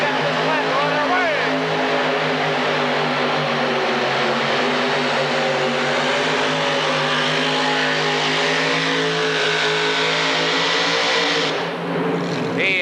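A modified tractor at the 1986 Indy Super Pull roars down the track pulling a sled, a loud, sustained, throbbing engine howl that fills the arena, likely with announcers talking over it.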